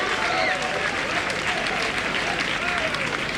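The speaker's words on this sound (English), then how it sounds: "You should applaud yourself for having sworn the matriculation oath." Matriculants applaud together at a University of Ghana matriculation ceremony, with dense, steady clapping from a large crowd that fills the whole moment at an even level.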